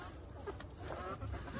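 Backyard chickens cluck softly and intermittently while being fed, faint and a little distant against a quiet background.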